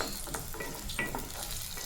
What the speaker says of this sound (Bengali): লো ফ্লেমে এগুলো কিন্তু মুচমুচে করে ভাজতে হবে